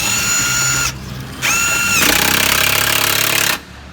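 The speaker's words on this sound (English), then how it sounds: "So I'm going to take this drill" Loud whining power drill driving a scissor jack to level a tiny home, running in two bursts separated by a brief pause, its pitch rising as it spins up, then grinding steadily before stopping.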